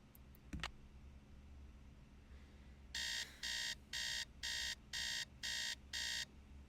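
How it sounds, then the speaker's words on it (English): An alarm clock rings in the Nancy Drew game, a loud electronic buzzer pulsing in seven even bursts at a steady rhythm after a brief click and a stretch of quiet hiss. "Let's set up the alarm to 8 a.m."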